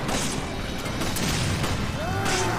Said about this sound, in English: Where did the explosion come from?